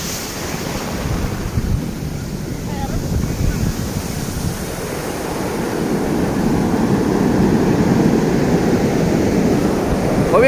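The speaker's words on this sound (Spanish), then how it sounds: "Miren cómo está el fuerte oleaje" Strong ocean surf rolls in at Icacos beach, a constant, loud wash of breaking waves that swells slightly over time, with wind buffeting the microphone.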